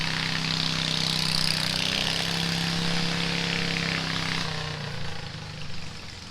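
An old Oliver Super 55 tractor engine running at the Ashtabula power show, a steady loud idling drone that eases off near the end.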